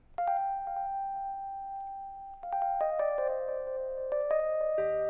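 Lounge Lizard electric piano playing a short, soft melody of bell-like sustained notes, a few struck tones ringing out one after another, with no voices.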